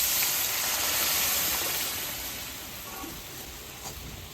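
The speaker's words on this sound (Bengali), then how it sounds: "এবার ঘুগনিটা একটু জাল হোক," Ghugni made with boiled peas and potato-spice masala simmering in a wok, a steady broad steamy hiss that holds loud, then eases slightly toward the end, with no talk over it.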